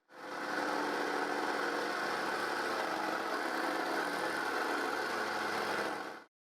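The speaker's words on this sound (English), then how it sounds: "I hope nothing will jump when I turn the jigsaw on." A jigsaw runs steadily, cutting the inside circle of a wooden hoop; a loud, even buzzing whine holds for about six seconds before cutting off.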